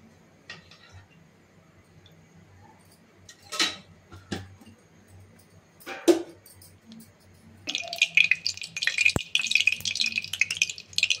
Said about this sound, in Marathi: आपली कढई तापलेली आहे, त्याच्यामध्ये आता आपण 2 पळी तेल घालूया